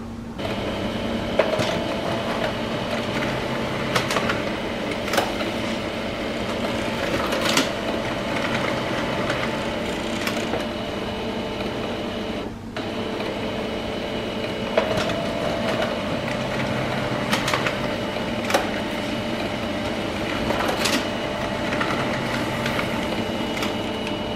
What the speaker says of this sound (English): This is the two-sided printing capability for the HP LaserJet Tank